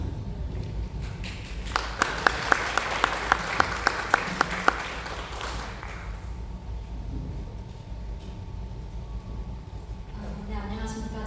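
Applause from a seminar audience at a drone product launch, a broad wash of clapping with a few sharp distinct claps near the start, fading out after several seconds into room noise.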